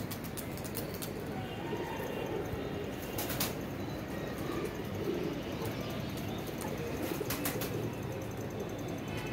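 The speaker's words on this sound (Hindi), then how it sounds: "ये देखें जी कबूतर शबूतर पल्ला मारा उड़ाए हैं।" Pigeons cooing softly among steady ambient noise, with a few brief flapping bursts as birds take off, heard from a short distance with no talk.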